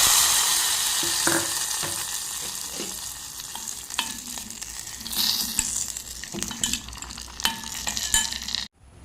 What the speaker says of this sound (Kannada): ಒಗ್ಗರಣೆಗೆ ಎಣ್ಣೆ ಸಾಸಿವೆ ಹಾಗೂ ಒಣಮೆಣಸು ಹಾಕ್ತೇನೆ